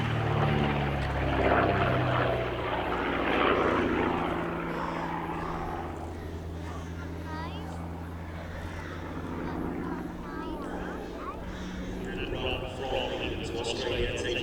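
A de Havilland DH.88 Comet Racer drones past at the Shuttleworth air show, its propeller engine note rising and fading at a distance while a commentator talks over it.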